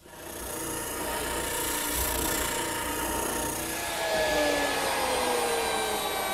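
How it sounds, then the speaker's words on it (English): An oscillating spindle sander smooths bandsaw marks on wood with a steady, close motor whir and a continuous abrasive hiss that rises slightly toward the end. "I'll smooth up the saw marks at my oscillating spindle sander."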